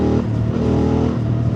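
BMW F 900 R motorcycle, 2025 model, its parallel-twin engine running loud and close in a steady, throaty drone with harmonic tones that rise slightly near the end.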